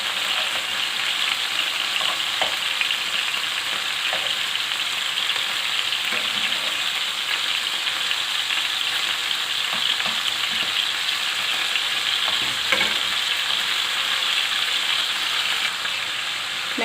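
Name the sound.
beef kebabs frying in a pan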